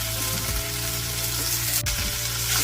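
Hunan chicken stir-frying in sesame oil, giving a loud, steady sizzle with brief scraping and stirring bursts throughout, close up and without talk.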